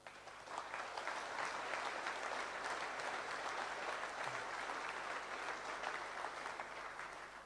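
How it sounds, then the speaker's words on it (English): Audience applause at the closing ceremony of the HAR 2009 hacker camp, a dense, sustained wash of clapping from a sizeable crowd, fairly distant and even, running for several seconds without a break. "Round of applause, please."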